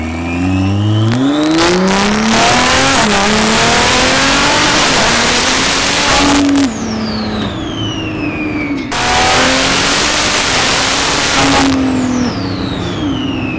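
A built car engine revs hard and loud nearby at Roadkill Nights, pitch climbing through several gear shifts with brief drops between surges, roaring on without talk.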